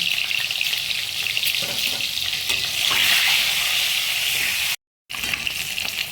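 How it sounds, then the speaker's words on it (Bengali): Eggs fry in hot oil with salt and turmeric, giving a loud, continuous close-up sizzle that swells briefly midway and cuts out for a moment near the end, with no talking. "লবণ, হলুদকে ভালো করে ভেজে নেব"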